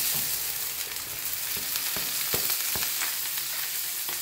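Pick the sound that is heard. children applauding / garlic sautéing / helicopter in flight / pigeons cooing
garlic sautéing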